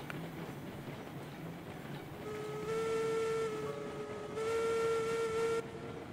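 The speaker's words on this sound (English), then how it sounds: "watching the locomotive go through the cut" A steam locomotive whistle in Railroads Online sounds in two long sustained blasts, a clear multi-tone chord, the second one louder, over a steady background of rolling train noise.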